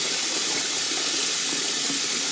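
Running water splashing steadily while cut vegetables are washed for Korean pickled side dishes, a loud continuous gush close by with no voices.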